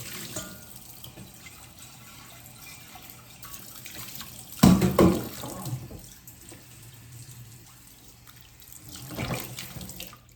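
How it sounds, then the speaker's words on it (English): Kitchen sink tap running as a dish is rinsed: a soft steady water hiss that surges into a louder splashing burst midway, then settles and swells again near the end, close by and alone. "I'm also just gonna rinse this out really quick."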